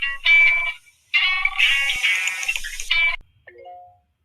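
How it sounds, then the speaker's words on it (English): A phone ringtone plays a bright electronic melody in three loud bursts with short gaps, then stops, followed by a faint low tone. "Oh, it's just my phone."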